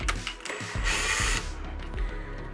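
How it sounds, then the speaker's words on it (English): A stepper drill bit bores through the plastic shell of a ColecoVision console, a near, whirring grind that rises and pauses in short bursts with small clicks between. "that's also what's nice about this stepper drill, is you can just kind of take your time with it"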